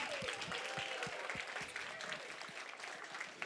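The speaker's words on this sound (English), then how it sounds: "Let's clap it up for PNC." Audience applause at a gala honoring PNC as a Dove honoree: dense, steady clapping from a crowd fills the room for several seconds, with a few sharper individual claps standing out near the front.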